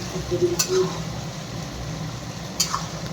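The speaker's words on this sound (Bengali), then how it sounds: "আর ওদিকে আমি কড়াইতে একটু আলুগুলো ভেজে নিচ্ছি" Potatoes fry in a kadai wok with a soft, continuous sizzle. A faint voice and a couple of brief metallic taps sit over the hiss.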